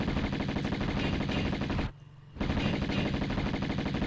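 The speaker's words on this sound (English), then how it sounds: "They're shooting me with their darts." Monsters in Tomb Raider fire darts in a loud, rapid, continuous barrage that drops out for about half a second, then resumes just as dense.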